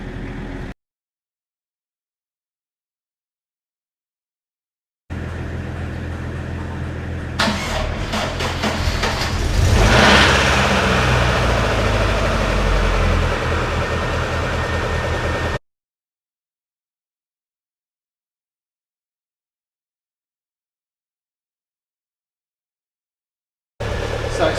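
A Land Rover Freelander engine cranks and catches, then settles into a steady, close, loud idle hum for several seconds before cutting off, with silence on either side.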